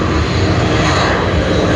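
Singapore Airlines A380 on pushback at Sydney Airport, a steady, loud engine roar filling the whole stretch without a break and no voices over it.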